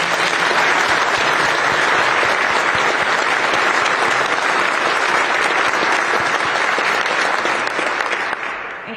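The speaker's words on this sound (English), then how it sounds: "Let's give him a round of applause." Sustained loud applause from an audience at a DHS press conference honoring a Coast Guard officer, dense even clapping that holds steady for several seconds before tapering slightly at the end.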